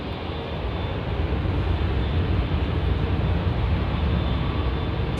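An airliner rolls for takeoff at London Heathrow, a broad, steady jet roar that builds slightly and holds loud and continuous with no talk.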